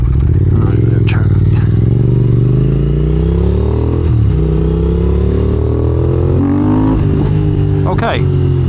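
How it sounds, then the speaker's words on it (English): A 2022 Triumph Speed Twin motorcycle accelerates hard through second gear into a power wheelie, its engine note climbing steadily over the whole stretch with a brief dip and shift, loud and close, with wind rush and a rider's voice mixed in. "That was a violent power wheelie in second gear with the traction control on."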